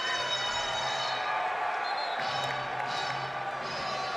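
At a Bowling Green versus Toledo men's college basketball game, the arena crowd makes a steady, distant roar and murmur. The noise stays fairly quiet and unbroken throughout, with no sharp peaks.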